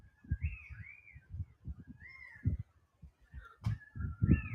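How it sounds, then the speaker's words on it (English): Birds call with faint whistled, sliding notes during a storm in Jasper, Georgia, scattered and distant over gusty low rumbling wind and rain. "I just wanted to share the bird sounds with you because it's so unique."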